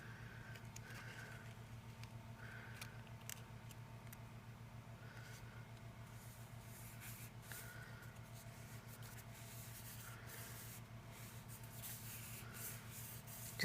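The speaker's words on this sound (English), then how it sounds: "Just want to give that a good all-over rub." Hand rubbing glued designer paper flat onto a card front makes soft, repeated swishing strokes, faint and irregular over a steady low hum, with no talking.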